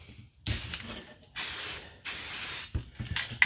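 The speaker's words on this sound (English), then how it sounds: "we're going to turn the can upside down, spray it for a couple seconds" Short bursts from an upturned spray paint can hiss loudly and close by during a scale model starship build, three main blasts of about half a second to a second each, separated by brief pauses.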